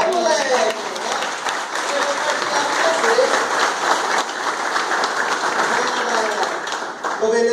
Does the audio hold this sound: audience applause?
yes